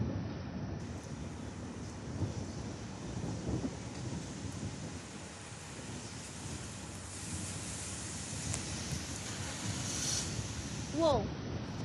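Thunder rolling from a huge thunderstorm over Longmont, Colorado, a long continuous low rumble with rain and wind noise throughout, fairly distant and steady.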